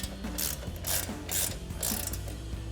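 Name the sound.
18mm ratcheting wrench tightening nut on truck suspension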